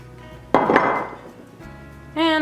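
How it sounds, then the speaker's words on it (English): A utensil scrapes and clinks against a pot while cheddar cheese is stirred into a sauce taken off the heat. There is one sharp clatter, then softer scraping, then a ringing metallic clink at the end. "I'm gonna give that a good mix till all that cheese is nice and melted in there"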